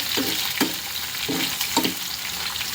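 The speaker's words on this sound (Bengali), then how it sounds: "এখান দিয়ে ডিম ভাজবো" Eggs fry in a pan with a steady close hiss, broken by a few rhythmic scraping strokes of a spatula roughly every half second.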